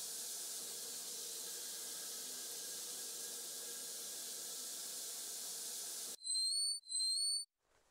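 Water from a shower in the slasher-style horror game Deadly Night hisses steadily for several seconds, then cuts off abruptly, followed by short whistling tones.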